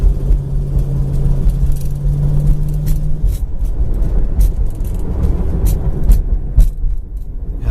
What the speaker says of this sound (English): It's got the 390 4-barrel 300 horsepower engine, C6 automatic transmission.